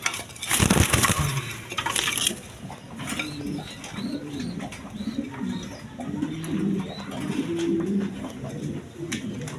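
Pigeons, pairs kept for sale at a wholesale bird market, coo repeatedly in soft rhythmic rolling phrases, close by, after a brief loud rustle at the start.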